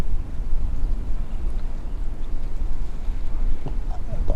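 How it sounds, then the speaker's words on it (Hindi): Strong wind blows hard against the microphone, a loud continuous low rumble with buffeting gusts throughout. "साउंड कैसा आ रहा है, हवा बहुत तेज़ चल रही है"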